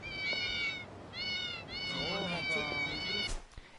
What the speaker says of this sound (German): Und sie heißen Mew Shoes, weil sie Miau machen.